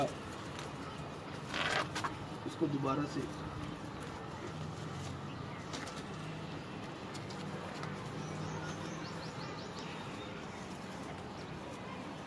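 Salara pigeons coo softly at a breeder's loft, the calls faint and intermittent beneath someone talking nearby.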